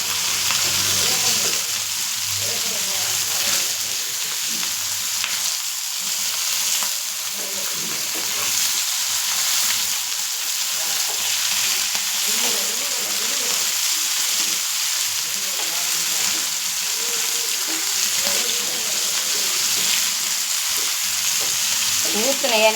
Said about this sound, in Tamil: இப்போ இந்த மீனை பிரட்டி போட்டுடலாம். பாருங்க, சூப்பராக ஜோராக பொரிஞ்சு வந்திருக்கா.